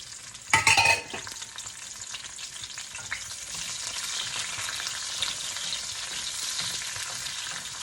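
Onion and garlic fry in a pan with a loud burst of sizzle as they hit the hot oil, settling into a continuous crackling hiss with stirring.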